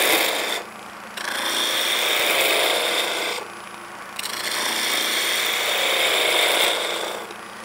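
A wood lathe turns a tapered section between centres while a skew finishing tool cuts the timber, producing a loud, close, hissing scrape in long sustained passes broken by two brief pauses.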